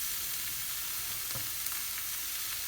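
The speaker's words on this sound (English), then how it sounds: "So we're going to add our steak pieces now, just on top of the onion." Strips of beef steak laid over onions in a pan on low heat, making a soft, continuous hiss with one brief clatter near the middle, fairly quiet and without talk.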